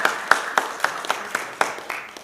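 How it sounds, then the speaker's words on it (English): Scattered claps from a small audience at a community press conference held by the Anti-Defamation League and Jewish Community Relations Council, about nine sharp separate hits at a fairly steady pace, moderately close with no talk. "you can clap"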